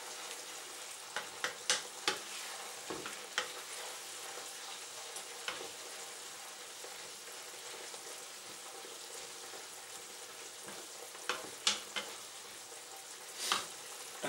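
Hot water boils in a cooking pan with ground pork for Chinese beans, giving a steady, fairly quiet sizzle and bubble broken by a few sharp clinks and stirring knocks, with no voices.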